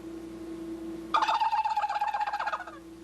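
A wild turkey gobble imitated on a gobble call, starting abruptly and rattling in a fast loud burst for about a second and a half, over a steady low hum.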